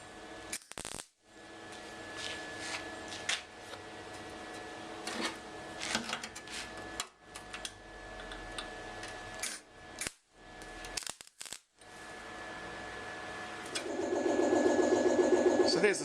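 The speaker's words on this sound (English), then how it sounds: "So there's the sides just getting tack welded in place" Tack welding a door patch panel on a 1960 Chevrolet Impala undergoing restoration for rusty doors: short crackling bursts broken by gaps, with a steadier buzzing run near the end, recorded close.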